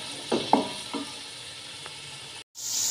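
A paste of onion, ginger and garlic fries in oil left over from frying fish, giving a steady, fairly quiet sizzle broken by a few brief clicks of stirring.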